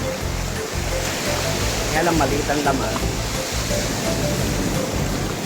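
Sea waves break along the shore in a steady loud wash of surf that fills the background while a person talks over it.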